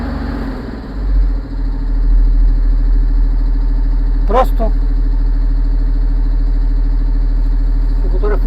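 A Househam Air Ride sprayer's Caterpillar diesel engine idles with a loud, steady low rumble close by, while someone speaks briefly over it.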